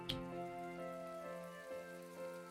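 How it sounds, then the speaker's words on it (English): Rain falls steadily in the video game My Time at Portia, a soft, even patter beneath sustained game music tones, moderately quiet throughout. "Oh, it's a very rainy day."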